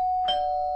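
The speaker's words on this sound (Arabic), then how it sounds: "شكرا انك دقيت الجرس" A doorbell chime rings inside the video game Streamer Life Simulator, a single clean electronic tone held steadily for under a second, alone with no talk.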